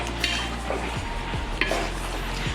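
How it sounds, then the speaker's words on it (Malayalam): A spoon scrapes and stirs chicken curry in a pan over light sizzling, with several distinct strokes spread across a couple of seconds, close and moderately loud, no talking. "ഇളക്കുക."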